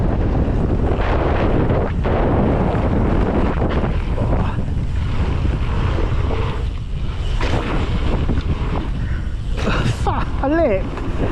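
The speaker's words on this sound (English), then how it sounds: "The wind has really picked up." Strong wind buffets the microphone outdoors on the water, a continuous loud roaring rush with gusty swells throughout, while someone speaks briefly underneath.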